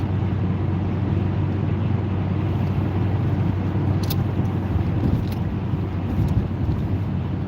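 Car engine humming steadily inside the cabin while driving smoothly through traffic, a continuous loud low drone with road and wind noise and no clear rise in pitch.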